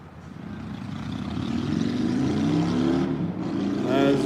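A car engine passing close by, a rising rumble that swells and revs louder over a few seconds, with a voice talking over it near the start.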